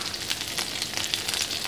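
Anchovies (teri) sizzle and crackle steadily in hot oil in a home kitchen, a continuous close frying hiss with small pops throughout and no voices.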